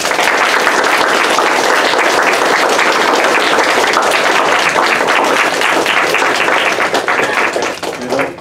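An audience claps at the end of an academic lecture on singular value decomposition for high-dimensional data. The applause is loud, dense and steady throughout and fades slightly at the close.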